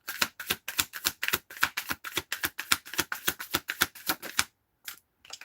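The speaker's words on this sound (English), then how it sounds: "Shuffle." Tarot cards shuffled in a fast, even run of about twenty crisp riffling snaps that stops briefly, then gives two final flicks, close and clear with no talk.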